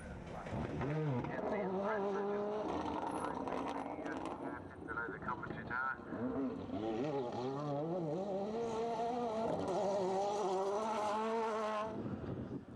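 Kevin Barrett's Subaru rally car, battered at the back end, races along a UK rally stage, its engine revving hard in rising and falling sweeps throughout, with a commentator talking over it.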